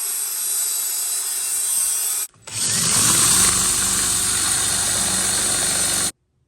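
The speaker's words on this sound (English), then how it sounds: "Just wire wheeled where we're gonna weld." A wire wheel brushing steel plates to prep them for welding while installing a shifter and transmission in a drift Mercedes, a steady loud abrasive whir running alone with one brief gap partway through.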